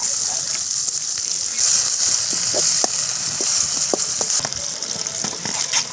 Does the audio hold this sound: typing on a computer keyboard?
no